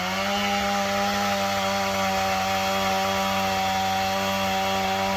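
A chainsaw cuts into a walnut tree, its engine holding a loud, steady, buzzing whine for the whole stretch with no voices over it.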